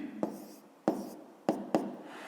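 Pen or chalk tapping and scratching while a fifth-grade math solution is written by hand, four sharp strokes in an uneven rhythm with faint scraping between, close and clear with no voice.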